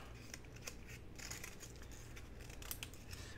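Scissors trimming around a paper flower pot purse craft piece, a quiet run of close, crisp snips and light paper crinkling in an otherwise still room, with no talking.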